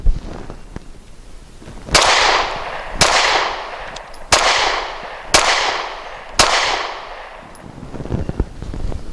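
Sky 9mm pistol firing Remington Ultimate Defense 124 grain ammunition, five loud, sharp shots at roughly one-second intervals, each with a decaying echo tail, plus fainter clicks before the first shot.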